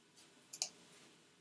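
A few light computer mouse clicks while editing keyframes in Premiere Pro, a pair of quick ticks near the start and one crisper click at the end, close and quiet with no talk.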